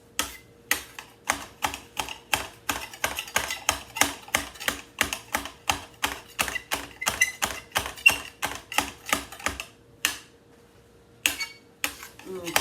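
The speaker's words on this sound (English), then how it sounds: "I'm going to cut this parsley up." A knife chopping fresh parsley on a cutting board in a home kitchen, dozens of quick, crisp, evenly spaced chops close up, with a brief pause near the end before a few final cuts.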